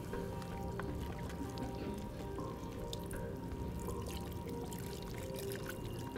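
Liquid pours slowly and steadily into a pot of onions and flour for French onion soup, a continuous close trickle with faint drips and a soft sizzling wash underneath, no voices.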